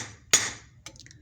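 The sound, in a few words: lead hammer tapping a bolt on a motor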